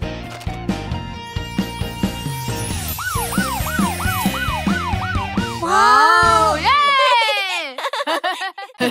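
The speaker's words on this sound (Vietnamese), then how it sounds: "Đây là xe cảnh sát." A cartoon police car siren whoops in a run of quick rising and falling sweeps amid bright children's cartoon music and effects, loud and close.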